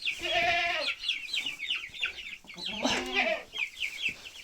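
Young chickens cluck and peep repeatedly, several birds close by chattering in quick, overlapping calls.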